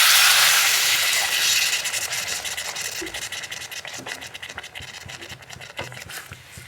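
Water poured into a pressure cooker pot of cooking taro (mukhi kochu), a hissing, splashing rush that is loudest at first and settles into a steady bubbling wash with faint scrapes.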